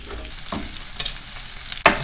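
Chicken afritada with potatoes and carrots being stirred in a frying pan, a steady sizzle broken by a few distinct scraping stirs and clacks of the utensil against the pan.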